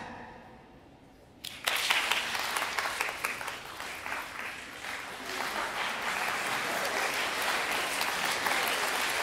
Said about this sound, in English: Now, compare that to this improvisation activity. Clap.